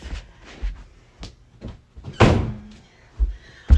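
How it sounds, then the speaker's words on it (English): A door is shut indoors with a solid thunk, preceded by a few soft bumps and shuffles and followed by quieter knocks, close to the microphone and with no talking. "I got to shut the door now"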